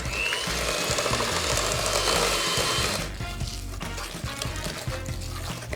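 An electric hand mixer whirs steadily on low speed, beating egg into a creamed shortbread mixture, loud and continuous before easing to a lighter hum midway through.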